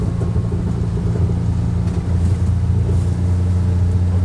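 A John Deere Gator 835M utility vehicle with a snow blade drives through drifting snow, its engine a steady, close, low rumbling drone that holds evenly throughout.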